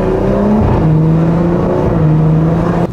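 A BMW B58 engine fitted with a hybrid turbo and Remus exhaust pulls hard, its loud, close drone climbing in pitch through the gears with brief dips at each shift, heard from inside the car.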